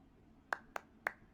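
Sharp, spaced claps from a character in an Exit 8-style clone game, three distinct hits at a measured pace plus the start of a fourth, fairly quiet with no one speaking.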